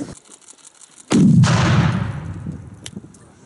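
A disruptor cannon shot destroying an explosive device: a single sudden loud blast with a booming low body and a hissing tail that fades over two seconds.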